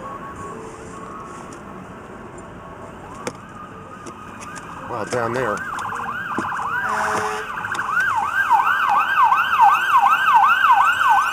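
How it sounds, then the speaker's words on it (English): Emergency vehicle sirens rising and falling in a wailing pattern during a slow night ride past a Christmas gingerbread village display, growing louder and closer toward the end, with brief talk nearby. "Sirens."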